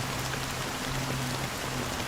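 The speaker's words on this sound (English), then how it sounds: "How long has this rain been ongoing?" Steady rain pours over the rainy dreamscape of Penacony in Honkai: Star Rail, a dense, even hiss of drops on surfaces filling the whole stretch without voices.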